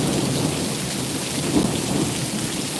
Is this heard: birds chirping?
no